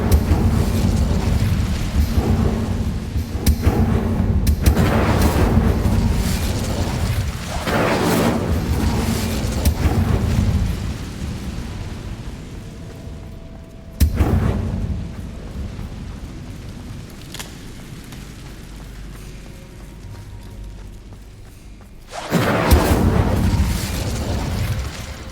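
An Incendio fire spell cast in a Harry Potter role-play video game, loud whooshing bursts and booms that keep rolling, with a sharp new blast partway through and another heavy burst near the end.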